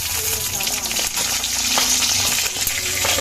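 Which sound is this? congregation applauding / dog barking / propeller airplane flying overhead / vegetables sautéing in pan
vegetables sautéing in pan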